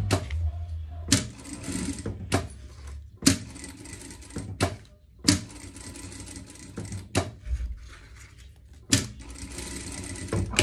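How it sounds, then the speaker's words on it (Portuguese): A sewing machine stitches a seam on a pet life vest in short whirring bursts separated by brief pauses and clicks, close and clear. "Vamos passar uma costura aqui."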